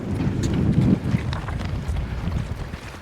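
Strong coastal wind buffets the microphone during a seaside road run near a long bridge, a loud, steady low rumble with gusty surges that peak early and then ease slightly.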